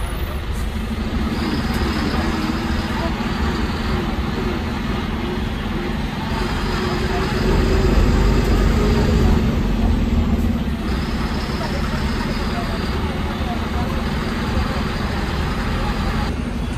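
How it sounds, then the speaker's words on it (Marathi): An MSRTC BS6 bus engine rumbles steadily as the bus pulls out of the Nashik bus stand, a continuous low drone swelling slightly midway, with a voice speaking over it. "नाशिक महामार्ग बस स्टँड वरून गाडी हललेली आहे"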